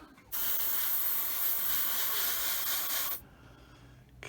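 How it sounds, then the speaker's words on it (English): A spray can lays red paint onto a Bandai 1/72 X-Wing Starfighter model in one continuous hissing burst of about three seconds, close to the microphone, with quiet before and after. "I'm spraying at an angle this way so I don't get any red paint on the front there."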